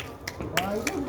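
Several people clapping their hands, a short run of sharp, evenly spaced claps, roughly four within a second, close by and mixed with ongoing talk.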